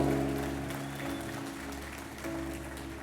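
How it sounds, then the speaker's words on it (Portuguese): A church congregation applauds in praise during a communion service, a steady wash of clapping over sustained keyboard or organ tones humming underneath. "melhore o seu aplauso ao Senhor"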